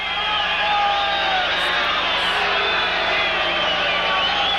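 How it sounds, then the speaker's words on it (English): A boxing arena crowd boos during the Salvador Sanchez vs Jorge Rocky Garcia fight, a sustained, massed roar of disapproval from a large audience, steady and fairly loud without a break. "the crowd booing here, and that is without cause"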